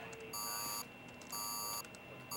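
Electronic alarm in a science-fiction film control room beeps in long, evenly spaced tones, three bursts with short gaps, loud and close over a low room hum.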